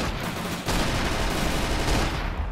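Cannons fire aboard a zeppelin in the Roblox game Zeppelin Wars, a loud, continuous barrage of booming blasts that runs without a break, briefly dipping before surging back even stronger.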